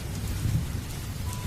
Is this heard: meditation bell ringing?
no